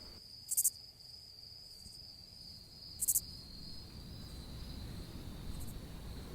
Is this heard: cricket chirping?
yes